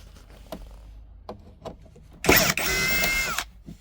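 A power screwdriver or drill whirs for about a second as T20 screws are removed from the center console of a VW Passat CC, a loud close burst after soft handling clicks and taps.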